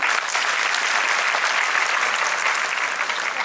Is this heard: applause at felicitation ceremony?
yes